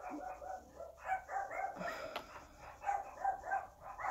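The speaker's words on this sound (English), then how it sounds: "They're gonna bark for a minute." Several dogs bark repeatedly in overlapping bursts indoors, moderately close, with an uneven rhythm throughout.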